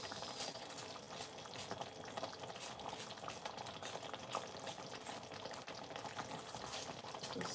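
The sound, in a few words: sliced onions added to simmering Ghanaian chicken stew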